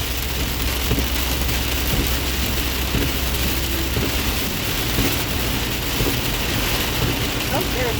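Heavy rain pounds a moving car during a storm, a dense, loud, unbroken roar of water over low road and engine rumble, steady throughout.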